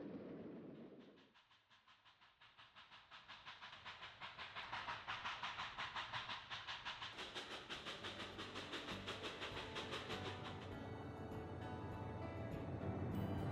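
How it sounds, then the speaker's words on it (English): A Southern Pacific passenger train running from Oakland to Sacramento rolls past, its steady rumble and rhythmic clatter growing louder and holding close for over ten seconds. "Train 244 is next with an Oakland to Sacramento train."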